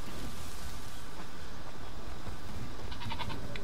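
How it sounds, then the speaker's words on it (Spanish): A goat bleats a few times in the survival video game The Isle, a faint, distant cry near the end over a steady outdoor ambience. "¡Eso ha sido una cabra!"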